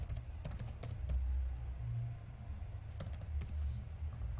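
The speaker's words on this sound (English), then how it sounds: "I'm going to enter that particular password again" Someone types a password on a computer keyboard: a short burst of quiet, close key clicks in uneven groups over a low background hum, with no talk.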